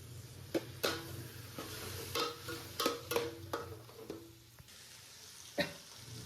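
Meat frying in a pan with salt, sizzling softly and steadily while a utensil scrapes and clanks against the pan in scattered bursts; no one speaks.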